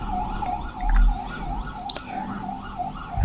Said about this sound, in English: I feel it's the alarm of an ambulance and not of a police car.